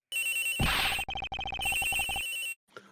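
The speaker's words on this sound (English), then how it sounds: "The ringing's coming from somewhere in here, sir." In the Ace Attorney Investigations game, a telephone rings in a flight attendant's room aboard a plane. One continuous electronic ring comes first, then a rapid stuttering trill of short pulses, loud and close with no talking, before a brief quiet tail.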